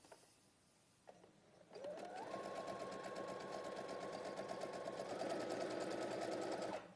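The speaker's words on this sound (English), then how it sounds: "I'm going to sew on the line." Sewing machine stitching along a marked line at centre needle position and regular stitch length, starting after a second of quiet and then running as a fast, steady mechanical whir and needle patter, close and fairly quiet.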